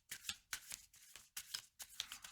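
Tarot cards being riffled and shuffled in several quick bursts, crisp papery riffles with short pauses between them, close up and without talk.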